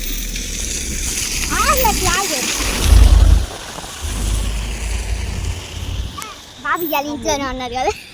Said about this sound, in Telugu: వాన పడుతుంది